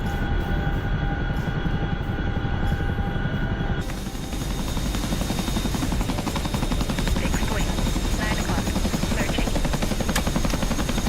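A Chinook helicopter in a video game produces a loud, constant rotor and engine drone that thickens after a brief shift partway through, with no pause.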